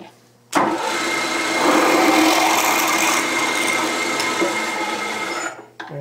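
Drilling a clearance hole for a bolt in a metal reamer holder part, a machine drill spinning up abruptly into a steady loud whine that holds for several seconds before cutting off.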